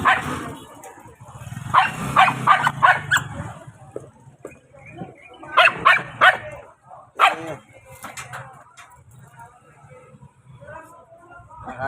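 Several small dogs bark and yip excitedly at another small dog, sharp bursts in clusters, fairly near, with a person talking between the barks.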